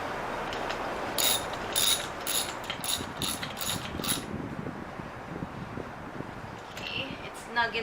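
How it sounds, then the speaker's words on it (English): A spark plug socket on a ratchet clicks in quick repeated bursts while new spark plugs are threaded into a B18 Integra engine, loud and close for the first few seconds, then softer handling noises follow. "now we're going to use the spark plug socket to put the new spark plugs back into the motor"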